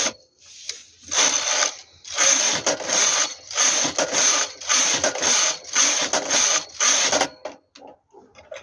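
A domestic knitting machine carriage slides back and forth across the needle bed while knitting rows of a baby sweater. Loud, ratcheting mechanical passes repeat about seven times in a steady rhythm, with short pauses between them.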